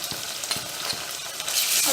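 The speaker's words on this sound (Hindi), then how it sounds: "अब प्याज और अदरक लहसुन को हमें बहुत ही अच्छे से फ्राई कर लेना है" Chopped onion with ginger-garlic paste frying in a pan for prawn biryani, a steady hiss of sizzling oil with a few soft scrapes of stirring, close and fairly quiet, no talk.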